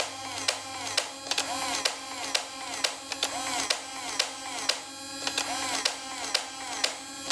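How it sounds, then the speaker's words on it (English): QHX knock-off Stryfe toy blaster firing in bursts: repeated sharp mechanical clacks, roughly three per group in an even rhythm, riding over a steady motor whir, close and clear. "for the burst shot, which is 3 rounds, just shift this up one notch"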